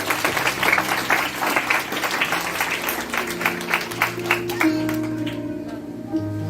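Church congregation at a Palm Sunday service claps loudly in praise, a steady rush of applause that fades after a few seconds as sustained keyboard or organ notes rise underneath.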